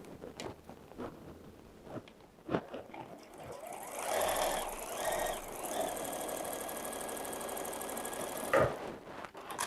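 Sewing machine stitching a quarter inch seam on quilt block pieces, a quiet start with a few clicks, then a sustained rapid mechanical whir for several seconds, close and alone.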